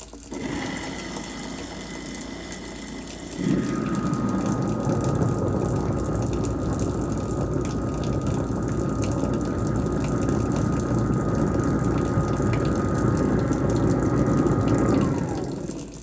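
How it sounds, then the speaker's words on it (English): A kitchen garbage disposal switches on with running water, a loud steady mechanical grinding whir that holds for about ten seconds before winding down, with no talking. "I'm going to turn on the disposer for 10 seconds."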